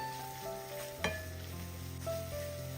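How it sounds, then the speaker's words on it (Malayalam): A spiced mixture with pepper and green chillies stirred in a pan, a steady low sizzle with a few sharp scrapes of the spoon against the pan, close and alone. "ഒരു പത്ത് സെക്കൻഡൊക്കെ ഒന്ന് ഇളക്കി കൊടുത്തിട്ടുണ്ട്"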